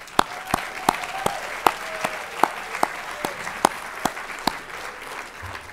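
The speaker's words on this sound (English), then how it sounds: "So a round of applause for them" Sparse, scattered clapping from a small audience at a young musicians' competition, distinct individual claps at a steady pace over a soft background, rather quiet.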